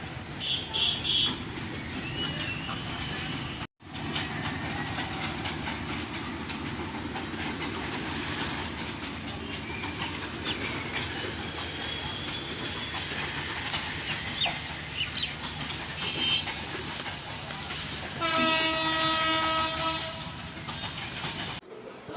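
A train crosses a rail bridge at Joypurhat, giving a continuous rolling rumble with rhythmic clatter, a brief dropout early on, and a loud, sustained tonal horn blast near the end, heard from close by.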